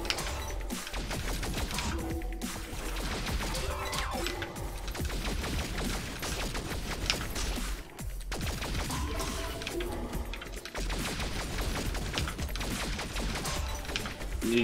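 Rapid shots fired continuously in the video game Grid Fight: Mask of the Goddess, a steady rattling stream of gunfire with brief pauses, mixed under game music.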